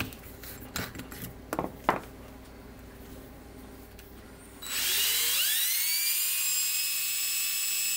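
High-pitched rotary tool spins up and whines steadily while deburring a chrome-plated metal tip on a model ship part, loud and close after a few light metallic taps.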